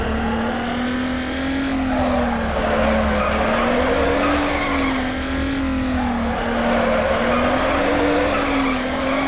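A Volkswagen Golf GTI in the racing game Need for Speed Underground 2 drifts with a loud, steady engine drone that wavers in pitch, overlaid by sustained tire squeal and skidding, close and continuous throughout.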